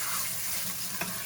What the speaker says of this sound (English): I love that sizzle noise.